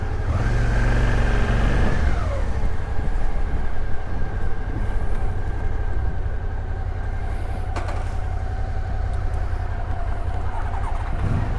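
Honda VFR motorcycle engine running steadily and close by, a continuous loud drone with a revving pitch that drops after the first couple of seconds, then holds an even idle-like hum.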